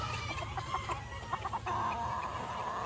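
A hen clucks in a pen alongside a young stag rooster, a string of short close clucks building into a longer drawn-out cackle over faint background hiss.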